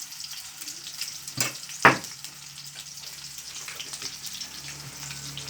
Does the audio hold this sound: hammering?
no